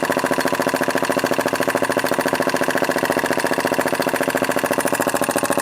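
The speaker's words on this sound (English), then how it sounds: "here's the third engine, which is a ring bomb engine" A homemade alcohol-fuelled ring bomb model engine runs steadily, a fast, even chatter of rapid firing pulses holding one pitch throughout, close and fairly loud with no voices.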